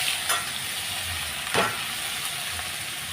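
Boiled cauliflower florets frying in hot oil with turmeric make a steady near sizzle, broken by a few scraping stirs of the spatula against the pan, with no one talking.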